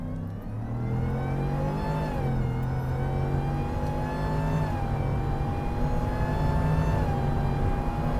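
Whipple supercharged Ford F-150 pickup accelerating hard, heard from inside the cab as a steady deep engine drone with a rising supercharger whine, revs climbing and shifting through gears.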